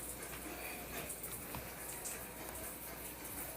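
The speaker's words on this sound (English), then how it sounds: "I'm waiting for this water to warm up." A sink tap runs steadily while the water is left to warm up, giving an even continuous rush of water that fills the whole stretch without pause, with no voices over it.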